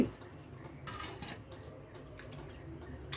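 Minced mutton keema pieces being washed in water, with soft splashing and light clinks of a vessel, quiet and close, with no voices.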